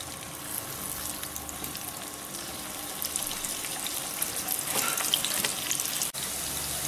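Taro root pieces with curry leaves fry in a small amount of oil in a pan, producing a continuous, fairly quiet hissing sizzle that swells slightly toward the end.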